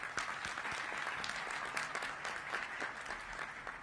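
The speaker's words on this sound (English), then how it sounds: "Round of applause, please." Audience applause at a public event where asylum seekers are discussed, a dense steady patter of many hands clapping throughout, heard at moderate distance with no talk over it.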